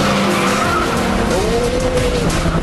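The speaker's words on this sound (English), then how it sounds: "Oh, got a bit of axle tramp there. Too much wheel spin, too much noise." Loud tire squeal and engine roar as a Nissan 350Z spins its wheels at a race start with axle tramp, screeching rising and falling over the constant rumble.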